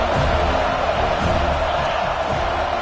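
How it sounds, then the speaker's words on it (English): Football stadium crowd roaring as a dense, steady wash of voices that stays loud and unbroken throughout. "This crowd ready to make its presence known"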